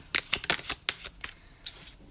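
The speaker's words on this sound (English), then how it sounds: "let's just shuffle your cards" Tarot cards being shuffled by hand, a quick run of crisp riffling bursts and soft slaps with short pauses, close and clear with no voices.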